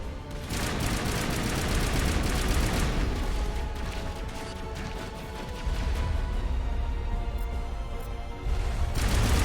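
Assault rifle fire in Mass Effect, long rapid bursts with clattering impacts, one easing into a quieter lull midway before firing picks up again and ends on a fresh burst.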